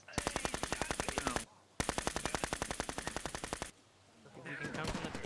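Rapid automatic gunfire in a video game, two long loud bursts of evenly spaced shots separated by a short pause, followed by quieter background noise.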